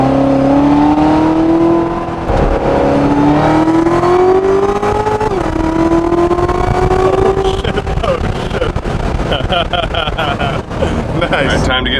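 A car engine fitted with a new aftermarket air intake revs up and down in rising sweeps, loud and close, with a strong intake sucking tone, then settles into a rougher, busier rumble toward the end.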